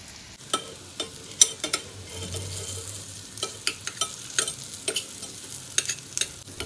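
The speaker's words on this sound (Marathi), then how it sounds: "याच तडक्यामध्ये आपल्याला ह्या वड्या छान शॅलो फ्राय करायच्या आहेत" Coriander vadis shallow-fried in a spiced tempering crackle faintly in the pan, with repeated sharp spatula taps and scrapes at an irregular pace, no talking.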